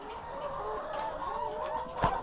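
Chickens on a poultry farm cluck in a steady, dense flock murmur, with a louder squawk near the end and no talking.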